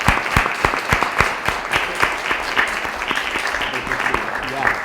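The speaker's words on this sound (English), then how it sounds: "So if I could ask for a round of applause for these outstanding kids." A school committee meeting audience claps together in a steady round of applause for a group of student athletes, dense and close, with some voices mixed in underneath.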